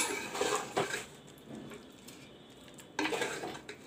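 A spoon scrapes and clinks against a pot while bhuna jeera mutton curry with coriander leaves is stirred off the flame, in a few loud bursts of clatter separated by a quieter stretch of soft mixing.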